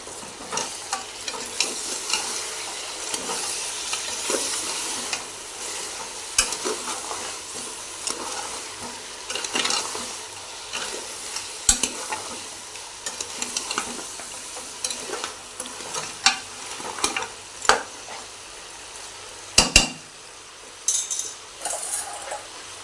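Telangana-style goat head curry fries in hot oil with a continuous sizzle, while a utensil stirs and clinks against the pot in irregular strokes. The sound is fairly close, with no voices.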